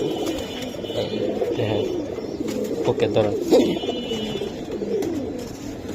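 Giribaz pigeons coo softly in low, rolling bursts while being handled close by, with people talking over them throughout.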